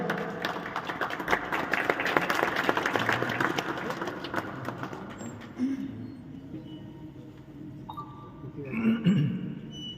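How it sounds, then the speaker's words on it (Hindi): An audience at a Unani medical doctors' conference in Delhi claps in a dense burst that gradually thins and fades out, leaving a quiet hall with faint murmurs and a few stray sounds. "और तालियां आपकी"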